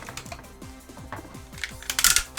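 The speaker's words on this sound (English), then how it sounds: "Oh, some good ratchet joints there." Plastic ratchet joints on a Powermaster Optimus Prime toy give a rapid series of sharp, close clicks, with denser clattering handling noise building toward the end.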